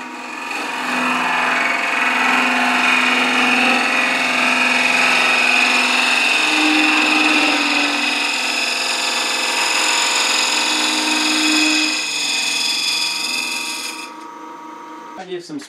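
Wood lathe turning a goblet with a conventional scraper held handle up and point down on a raised tool rest, a steady loud scraping whir with tonal hum that runs continuously, then stops abruptly near the end.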